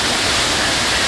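Efrata waterfall on Samosir island pours in a steady, dense broadband roar that fills the short stretch without a break, close and fairly loud, with no voices over it.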